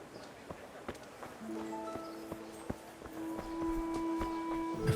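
Horse hooves clop in the medieval video game Kingdom Come: Deliverance, a series of sharp, spaced hoof strikes over a steady background hum, with tonal game sounds rising in the latter half.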